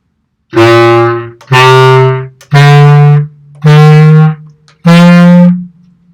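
Five sustained woodwind notes played one after another with short gaps between them, each stepping to a new pitch, loud and close with no talking.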